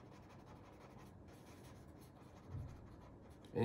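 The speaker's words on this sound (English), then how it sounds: "this is where these paper pencils comes really in handy, because they're able to do it just a little bit more soft and gray than a regular pencil would" Paper blending stump shading graphite on paper during a drawing, producing a soft, continuous close scratching that stays steady, then a louder bump at the very end; no voices.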